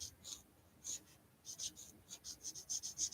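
Pencil colouring in a dotted area on a chick-and-egg card, heard as soft, close, rhythmic scratchy strokes that come in short bursts and quicken toward the end, quiet overall.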